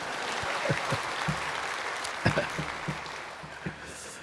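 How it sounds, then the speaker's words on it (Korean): Steady applause from a church congregation, a continuous wash of clapping with a few sharper claps standing out, no talking over it. "이제 이때 박수 쳐야 돼요."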